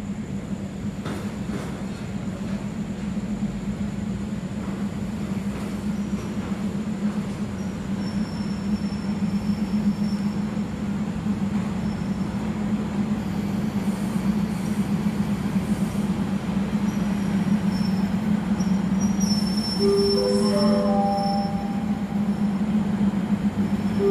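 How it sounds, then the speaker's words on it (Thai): A special tourist train rolls into platform 9 at Bangkok's Hua Lamphong station, a loud steady rumble of wheels and cars with high metallic wheel squeals rising near the end. "วันนี้ไม่ว่าจะเป็นขบวนพิเศษขบวนท่องเที่ยวเข้าชานชาลาที่9หมดเลยค่ะ"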